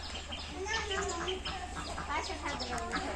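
Chickens clucking and squawking at a market, busy overlapping calls throughout, mixed with people talking nearby.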